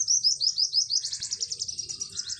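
A small bird in a village garden sings loudly and close by, a rapid run of high repeated chirps turning into a fast trill, with a soft low rumble of background noise underneath.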